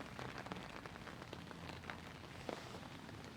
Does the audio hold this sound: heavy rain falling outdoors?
yes